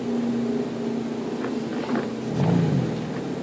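A Holden Commodore idles and rises briefly in revs at a drag strip, its engine a steady low drone with a short swelling note, heard over outdoor ambience.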